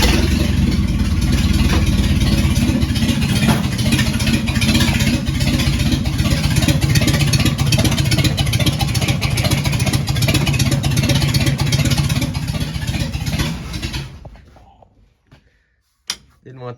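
A Ford 300-6 inline-six in a Bumpside truck runs loud and rough for about fourteen seconds, clattering steadily under a voice, then cuts off and winds down to near silence, with a brief knock near the end.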